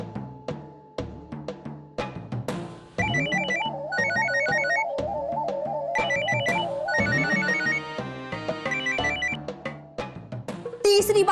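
A phone rings during a call, a melodic ringtone sounding in repeated bursts over a musical background with scattered percussive hits.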